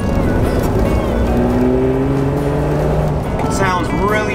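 Jeep Wrangler engine pulling in second gear after a downshift, a steady drone that climbs gently in pitch as the throttle opens, heard from inside the cabin with a voice talking over it.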